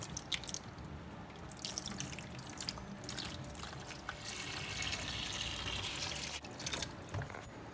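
Distilled white vinegar being poured over rusty draw knife parts in a container, a close, continuous splashing trickle with dripping, steady throughout with brief pauses, no talking.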